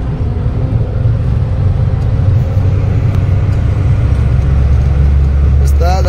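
A loaded truck drives along a highway while the driver works through the gears, a heavy, steady low engine rumble up close inside the cab, with occasional talk over it.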